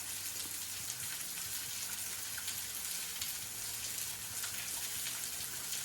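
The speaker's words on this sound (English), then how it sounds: "listen to this waterfall" A waterfall at Honeycomb Rocks in Rockbridge, Ohio, giving a continuous, even hiss of falling and splashing water with no pauses.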